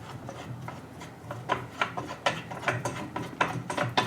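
A finial is screwed down by hand to hold the shade of a Target Project 62 Weston floor lamp, making close, rhythmic scraping and ratcheting twists that grow louder and quicker toward the end.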